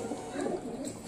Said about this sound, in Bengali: বড় কথা এখন পায়রাগুলো ছড়াবে পুরো ছাদ।